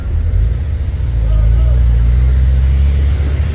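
A Hino trailer truck engine labors up a hill, its deep low rumble loud and close and building slightly as it pulls, with some voice faintly over the engine.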